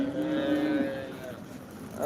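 A cow moos loudly and close by in one long drawn-out low call at the Modnimb cattle market.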